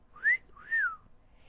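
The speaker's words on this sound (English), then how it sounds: "Holmes whistled." Holmes gives a whistle: two clear rising-and-falling whistled notes in quick succession, close and alone against silence.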